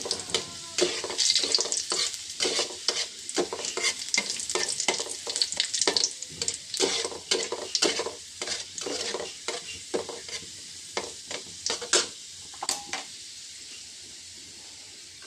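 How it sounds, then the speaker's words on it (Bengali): Onion, garlic and dried chillies fry in hot oil for a dal tempering, a steady close sizzle broken by repeated scraping stirs throughout, with no talking. "ডালটা সম্বার দেওয়ার জন্য পেঁয়াজ, রসুন, শুকনো মরিচ ভেজে নিচ্ছি।"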